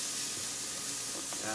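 Butter sizzles on a hot sizzling plate for sisig, giving a steady, close, bright hiss of frying that holds evenly throughout, with no talking.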